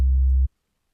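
A low, pure sine tone from the Serum synthesizer hums steadily for about half a second, then stops abruptly into silence.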